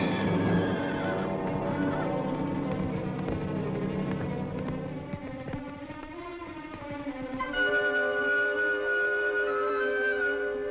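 A stallion on a ranch gives a long, loud, close whinny that wavers and rises, joined by a second shrill neigh near the end, with faint hoof and background noise beneath.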